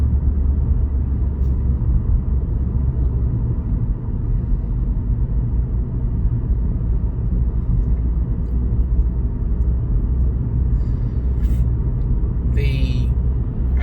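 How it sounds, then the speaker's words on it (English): A steady, low engine rumble drones inside a moving car, with road and wind noise blended in and a few brief clicks and squeaks near the end. "I hear the engine more than I do the actual wind"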